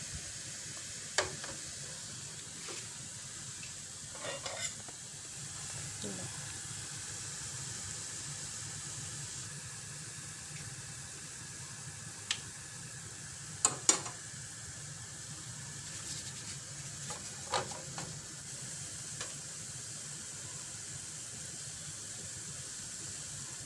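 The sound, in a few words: deep-frying khanom dok jok batter in oil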